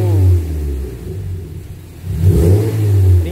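A Mazda MX5 fitted with an iForce part revs its engine, giving a deep, steady rumble that dips in the middle and then swells again, heard close and loud with no talking.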